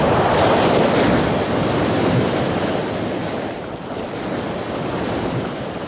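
Sea waves crash and surge continuously in a loud, close roar mixed with wind buffeting, with no voices.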